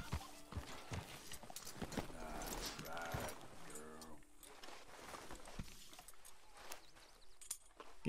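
Horse hooves clip-clop in Red Dead Redemption 2 as a horse walks and is hitched, steady irregular footfalls mixed with game ambience and brief voices.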